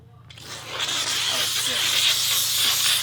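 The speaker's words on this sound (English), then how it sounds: "We're about to peel off the wrap, and Austin's weapon of choice to peel it off is what? Steamer." A handheld steamer hisses loudly and continuously as a vinyl wrap is peeled off a Subaru WRX, a broad close-up rush of steam that swells in after a short quiet start and holds steady.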